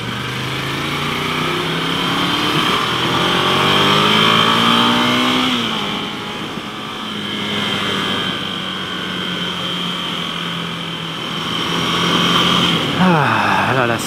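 Motorcycle cruising steadily along an empty, quiet road, its engine note rising and falling with throttle changes and constant wind rush throughout, with a brief louder rev near the end.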